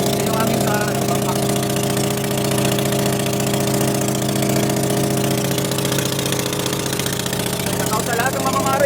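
A small fishing boat's engine idles steadily at close range, a continuous droning hum that stays even throughout with no change in pitch.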